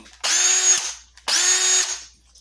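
Porter-Cable power drill whirring in two short bursts, each spinning up fast to a steady high whine and then cutting off, close and loud with quiet gaps and no talk.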